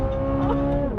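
A mid-engine car's flat-plane-crank V8 droning with a strong steady tone, then rising sharply in pitch as the revs climb at the very end.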